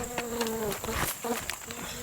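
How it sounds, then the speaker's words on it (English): A red wasp buzzes close by outdoors at a house foundation dig, its wavering drone rising and falling as it circles near the microphone. "It's red wasp, I hate them."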